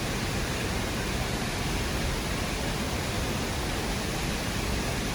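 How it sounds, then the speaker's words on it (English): La Fortuna waterfall in Costa Rica gives a loud, steady, unbroken roar of falling water that fills the whole stretch, close and constant, with no voices over it. "And that's the waterfall, guys."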